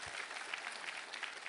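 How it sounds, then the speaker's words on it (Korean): A church congregation claps together at a Sunday worship service, a steady dense wash of hands that holds at an even level throughout without letting up. "우리 하나님께 감사와 영광의 박수 올려드리겠습니다"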